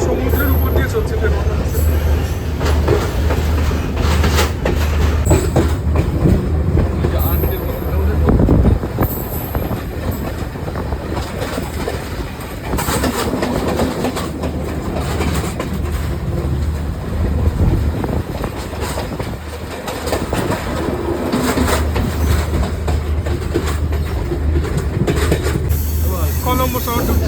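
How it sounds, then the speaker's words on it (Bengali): Train running right beside the sea on the Galle to Colombo line, a loud rumbling roll with rattling wheels and hiss heard from inside the carriage, with voices talking over it. "পুরো সমুদ্রের উপর দিয়ে চলছে ট্রেন।"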